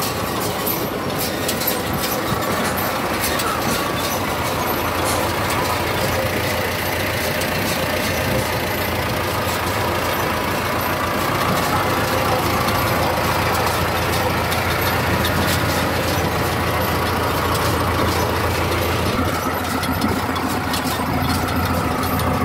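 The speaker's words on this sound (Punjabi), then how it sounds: "ਦੂਜੀ ਸਾਈਡ ਤੁਸੀਂ ਦੇਖ ਸਕਦੇ ਇਹ 4 ਸਿਲੰਡਰ ਟਰੈਕਟਰ ਹੈ ਜੀ" A John Deere 720 four-cylinder tractor engine idles steadily and evenly, a close, continuous mechanical rumble with no speech.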